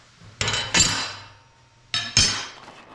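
Metal snowcat track parts are being bolted together, giving two pairs of sharp metallic clanks with ringing decays, close and loud in a quiet room, with no speech.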